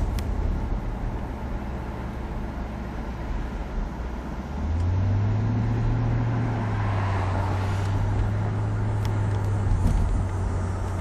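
Steady engine and exhaust drone from a 2006 Jaguar XKR convertible Victory Edition under way, a low rumble that climbs and swells near the middle as the car accelerates, then holds on at a sustained cruise.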